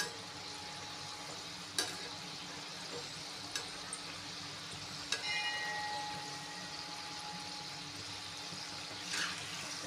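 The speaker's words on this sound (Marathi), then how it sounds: "जोपर्यंत त्याचा कलर बदलत नाही तोपर्यंत आपण तळून घेऊया सगळ्यांना" Modaks deep-frying in hot oil give a soft, continuous bubbling sizzle, faint and even, broken by a few sharp clinks of a utensil against the pan.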